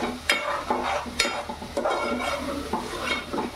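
A spoon scrapes and clinks against a pan, stirring tomato paste into onions that were fried on high heat, with a soft sizzle running underneath and several sharp clinks spaced through it.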